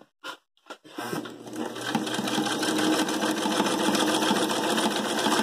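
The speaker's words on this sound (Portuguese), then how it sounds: "Você vai sempre costurar a barra." A double-needle sewing machine hemming jeans: a few short clicks and taps, then the motor starts and runs in a fast, steady whir that builds slightly and stays loud and close to the end.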